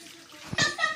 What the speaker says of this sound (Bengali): এখন আমি ডালটা ঢালে নিব।